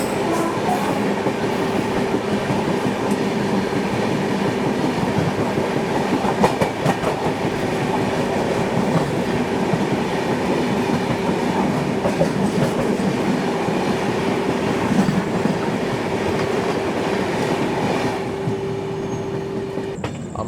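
Poorva Express running on the rails, a steady loud rumble of wheels with rhythmic clickety-clack and a sustained tonal whine, heard from inside the moving train without any talk.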